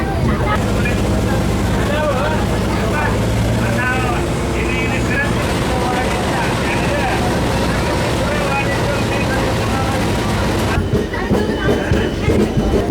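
A DEMU express train on the Solapur to Hosapete route pulls into Mallapur railway station, a steady loud rumble of wheels and engine with rhythmic clatter throughout, heard from inside a crowded carriage with people talking in the background.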